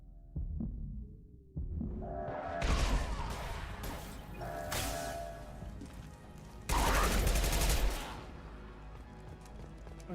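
Gunfire in Mass Effect Legendary Edition rattles in dense, heavy bursts over a booming game soundtrack and low rumble, loud and continuous throughout.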